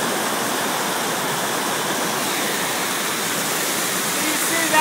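Water swirling into a strong vortex inside a 55-gallon drum fed by a stream through a 4-inch pipe, a steady, dense rushing and churning wash that holds constant throughout.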